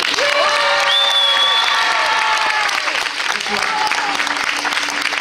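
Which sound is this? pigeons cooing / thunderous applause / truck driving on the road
thunderous applause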